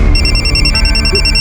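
A telephone rings loudly and close by with a steady, continuous electronic bell tone that fills the short moment on its own, with no voices over it.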